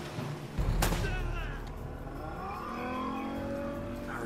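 A single sharp gunshot rings out in Uncharted: Drake's Fortune Remastered, followed by rumbling engine-like noise and lingering combat ambience at low volume, with speech nearby.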